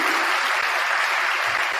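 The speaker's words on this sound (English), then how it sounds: "Round of applause for our assistants over here to your left and right." Audience applause at a Hall of Fame induction ceremony at La Salle Institute, a dense, steady wash of many hands clapping that fills the whole moment without pause.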